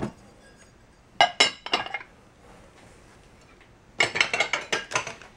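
Pieces of a glass butter dish, top and bottom, clinking as they are handled, two bursts of sharp close clinks separated by a quiet pause.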